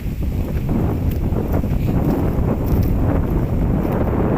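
Wind blowing outdoors over rice fields, a loud steady rush buffeting the microphone with continuous low rumble and no pauses.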